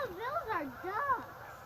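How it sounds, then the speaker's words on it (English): A flock of geese flies overhead outdoors, giving a quick series of rising and falling honks that sound fairly faint and distant. "No, those are geese."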